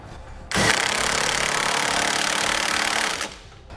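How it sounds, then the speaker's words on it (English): A socket tool tightens 1/2-inch bolts on a Curt trailer hitch receiver being fitted to a 2013 Land Rover Evoque, giving one loud, close burst of rattling, whirring power-tool noise lasting about three seconds. "using a 3/4 inch socket, I'm going to come back and snug up my 1/2 inch hardware here on my driver's side"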